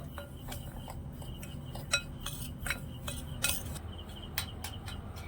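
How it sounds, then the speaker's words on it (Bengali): A spoon stirs a dry mix of semolina, powdered milk and a pinch of salt in a bowl, giving repeated light clinks and scrapes against the side over a quiet background. "আর সাথে একদম সামান্য একটু লবণ দিয়ে দিলাম একটু ভালো করে মিশিয়ে নেবো"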